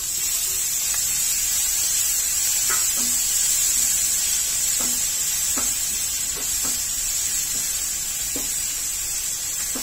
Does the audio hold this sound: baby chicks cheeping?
no